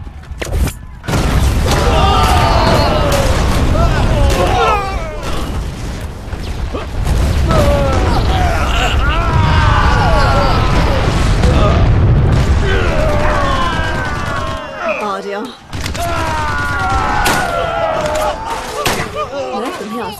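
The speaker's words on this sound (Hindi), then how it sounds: "धमाका शुरू।" Movie explosions and gunfire from an action battle scene in a Hindi-dubbed Hollywood film, with heavy booms and rapid bursts continuing loudly for about twenty seconds, mixed with shouted dialogue and dramatic effects.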